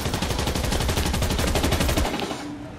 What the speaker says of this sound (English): What's better than a kid shooting at me right now?